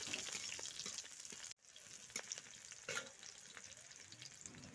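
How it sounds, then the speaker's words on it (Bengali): Whole cumin seeds and slit green chillies sizzle in hot oil as a tempering, a quiet continuous crackle with stirring scrapes and a brief drop-out partway through. "দিয়ে গোটা জিরে দিয়ে দিলাম ফোড়নে আর দিয়ে দিয়েছি কয়েকটা কাঁচা লঙ্কা চেরা দিয়ে একটু ভেজে নিচ্ছি"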